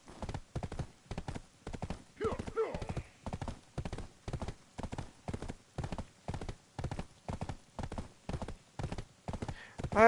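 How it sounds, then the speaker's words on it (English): A horse's hooves clip-clop in a steady, even rhythm in the video game Black Desert, each step loud and close, continuing without pause for the whole stretch. "Let's take the horse."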